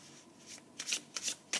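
Tarot cards drawn and laid out from a deck, several short papery swishes and snaps in quick succession, soft and close with no talking.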